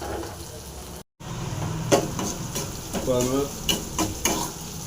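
Chopped onions frying in a pan for a pongal tempering made with ration rice, giving a continuous close sizzle and crackle with spatula scrapes, and a voice talking over it for part of the time.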